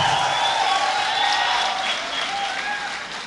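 Applause from the audience at a mushaira and kavi sammelan at BRD Medical College, Gorakhpur, a dense wash of clapping that slowly fades, with a faint voice over it.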